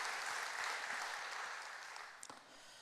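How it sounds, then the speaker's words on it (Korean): A church congregation claps in thanks after a shared meal, a broad steady wash of applause that thins out toward the end, with a few sharper claps near the close. "우리 모두를 위해서 우리 감사의 박수 드릴까요?"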